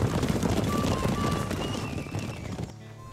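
Horse hooves clip-clopping in a steady, moderately close rhythm, with faint background sounds before a sudden quiet at the end.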